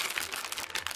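A simple plastic package holding AliExpress clothes crinkles and rustles as it is unpacked, with close, busy crackling throughout.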